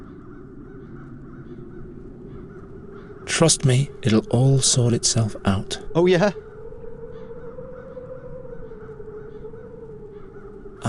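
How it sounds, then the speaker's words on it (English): Crows cawing in the fantasy video game The Dark Eye: Chains of Satinav, a burst of loud, harsh repeated caws over a low ambient hum, with a character speaking nearby. "Those crows stem from the nether hells."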